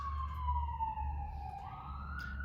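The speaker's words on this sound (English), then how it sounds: "Ambulance going by." An ambulance siren wails past at a distance, its tone sliding slowly downward and then rising again over a low road rumble.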